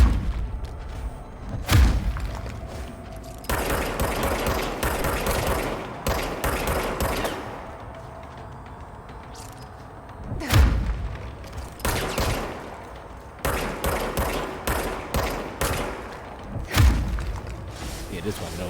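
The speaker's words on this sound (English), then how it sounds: "They call it a service weapon." Heavy gunfire from the service weapon in the video game Control, booming shots and dense volleys in repeated bursts, loud and close, with game thuds between them.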